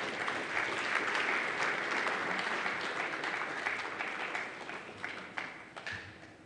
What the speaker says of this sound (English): Another round of applause, ladies and gentlemen, for Dr. Frank.